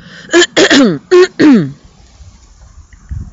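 Several sharp, throaty clearing sounds in quick bursts, close and loud, then quiet.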